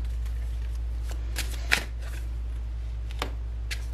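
Tarot cards being shuffled close by, with soft riffling and several sharper flicks and snaps spread across a few seconds, no voice over them.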